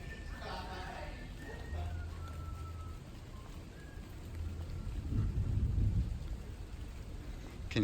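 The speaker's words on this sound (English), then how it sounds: "Can hear the thunder coming." Distant thunder rolls low beneath steady summer rainfall in Florida at Animal Kingdom Lodge, swelling into a deeper rumble partway through, with faint voices in the background.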